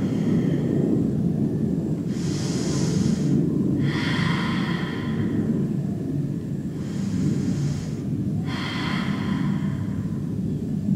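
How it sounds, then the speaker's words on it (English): Slow, deep breathing during a gentle morning yoga flow, four long airy breaths in pairs of inhale and exhale, close and clear over a steady low background rumble. "Deep breath."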